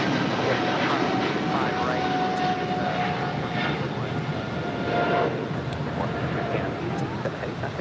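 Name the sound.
LATAM Airlines Boeing 777-300ER taking off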